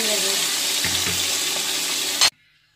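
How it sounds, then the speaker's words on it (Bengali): Fish pieces lightly frying in hot oil, a dense, steady sizzle close by that runs without a break and then cuts off abruptly near the end, leaving near silence. "এভাবে সবগুলো মাছ আগে হালকা একটু ভেজে নেব"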